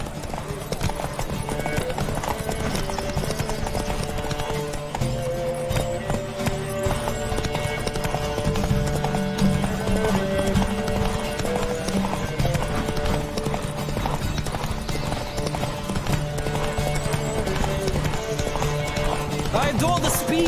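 In the video game The Witcher 3: Wild Hunt, rapid hoofbeats of horses galloping in a race continuously over a steady music bed, with voices calling out at times throughout.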